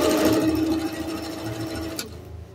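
A Singer sewing machine stitches zigzag at a steady, fast whirring rhythm, loud and close, running continuously before slowing and stopping with a final click.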